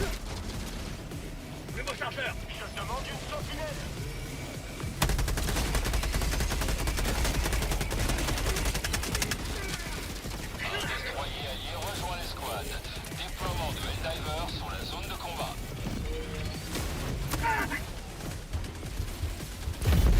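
Sustained automatic turret gunfire with heavy mechanical booms and explosions in Helldivers II combat, dense and loud throughout, with a player's voice talking over the action.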